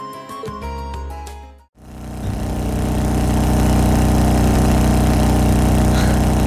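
Steady engine drone from a vehicle in the Trails of Cold Steel game, a continuous loud mid-low hum that holds on after a short burst of music and then a brief dropout.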